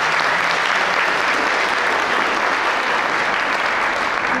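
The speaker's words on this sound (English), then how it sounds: "give him a round of applause." Steady, full audience applause at a sixth grade graduation ceremony for a student, continuous and fairly loud clapping from a large crowd with no talk over it.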